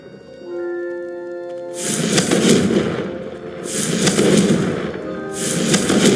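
Confringo fire-blast spell explosions in the video game Hogwarts Legacy, three loud crackling bursts each lasting over a second, following a short tonal chime and fading between blasts.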